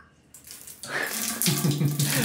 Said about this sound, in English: there's a hole that water comes out here